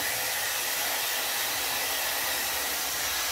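A 5-in-1 hair tool blowing air while drying hair, a loud, steady, close broadband whoosh with no breaks and no talking.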